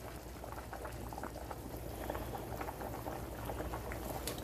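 Corn boiling in a pot of water with leaves, Haitian style, a steady rolling bubble and gurgle that fills the whole stretch with dense, continuous liquid churning.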